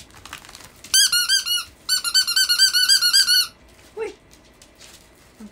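A dog's squeaky toy is squeezed over and over, giving a quick burst of high rubbery squeaks, a pause, then a longer rhythmic run, followed by a faint whining sound.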